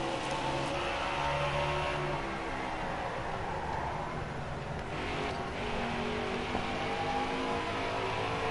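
A NASCAR race car roars around Richmond's track in the video game NASCAR Heat 5. The engine drones loudly and steadily, with a dense, continuous whine throughout and no speech.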